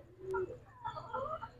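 Domestic pigeons coo softly at close range, giving a few short murmuring calls in quick succession against a quiet outdoor background.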